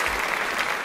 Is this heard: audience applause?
yes